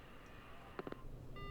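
In the game Spirit Hunter NG, a phone call cuts off with a quick burst of three electronic tones followed by a steady disconnect beep, faint and close in a quiet scene.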